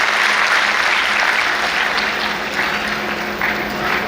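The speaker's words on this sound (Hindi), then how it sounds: "मैं चाहूंगा कि महिलाएं अपने सम्मान में इस बात पर ताली जरूर बजाएं" Steady applause from an audience at a Women's Day celebration, dense and even, continuing at a constant level for the whole stretch with no voices over it.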